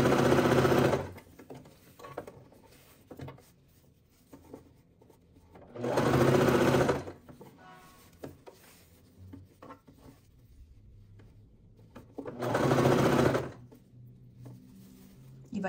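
A sewing machine stitches a satin scrunchie in three short bursts of fast, whirring running, separated by quieter stretches of fabric handling and soft clicks, close by.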